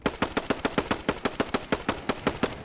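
Rapid semi-automatic carbine shots in the WWII shooter Post Scriptum, about fifteen sharp, evenly spaced cracks in a steady rhythm, loud and close with no talking.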